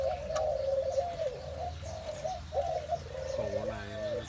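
Pigeons cooing close by near their coops, a continuous low rolling coo that swells and repeats alone without talk.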